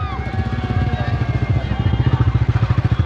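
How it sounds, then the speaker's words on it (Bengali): Motorcycles pass close by on a road during a day outing. A throbbing engine putter grows steadier and more pulsing as a bike approaches, with faint voices in the background. "তো এখান দিয়ে বাইক টাইক গুলো যাচ্ছে"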